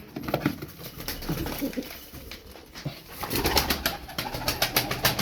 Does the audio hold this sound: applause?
no